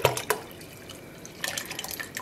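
Rinse water trickling and dripping from superwash Bluefaced Leicester wool yarn after dyeing, a few splashy drips at the start and again near the end, soft and close with no speech.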